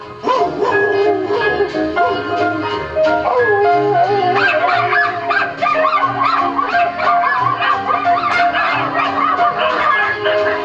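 Several dogs bark, yip and whimper in a film scene, the excited yelps and whines overlapping densely and loudly for the whole stretch with no pause.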